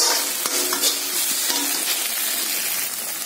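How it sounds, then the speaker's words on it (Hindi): Chopped onions sizzling steadily in oil in a pan for veg Manchurian, with a spoon scraping and stirring through them in short strokes; loud and close, no talking. "हम इसको थोड़ा प्याज को मुलायम होने तक हल्का सा भून लेंगे।"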